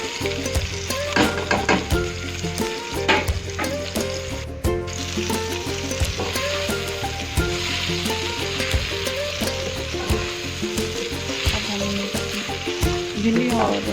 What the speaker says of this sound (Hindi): अब हम इसमें अपनी भिंडियाँ ऐड कर देंगे, प्याज और भिंडियाँ जो हमने फ्राई की थी।